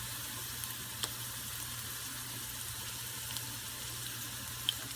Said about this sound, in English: See how quickly those are starting to fry up, brown up?